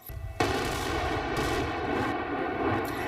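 A controlled explosion blasting rock at a landslide near Perarolo, a sudden loud blast followed by a sustained rumbling roar of debris that continues steadily, heard from a distance without talk.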